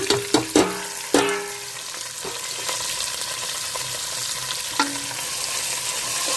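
Onion, green chilli, mint and coriander frying in an oil-and-ghee mix with whole spices, several sharp stirring knocks at first, then a steady loud sizzle, close up.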